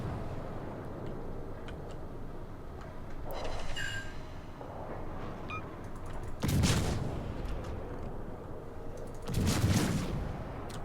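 Low-caliber battleship armor-piercing shells firing in World of Warships, heard as a few heavy booming salvos spaced several seconds apart over a constant low rumble, with no talk.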